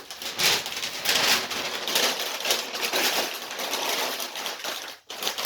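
Paper bags are crumpled up close by to fill the bottom of a shipping box, bursts of crackling and rustling that come and go for several seconds.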